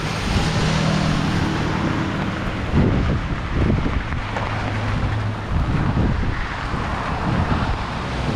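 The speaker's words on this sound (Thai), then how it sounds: "ลมเนี่ย หนักเลย วูบเดียวเลย" A strong gust of wind in a summer storm roars across an open microphone as a loud, continuous buffeting rumble with surging swells throughout.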